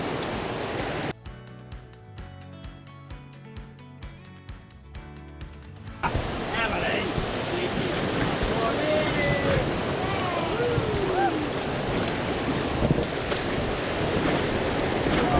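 Music plays briefly at first, then loud rushing grade 2–3 whitewater on the Ayung River, Bali, takes over while rafting, splashing and roaring continuously with faint shouts mixed in.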